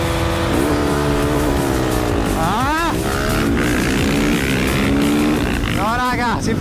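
A KTM 690 and a Husqvarna 450 motorcycle launch from a standing start, their engines roaring loud and close with rising revs and quick gear-change sweeps, while a rider talks over the noise.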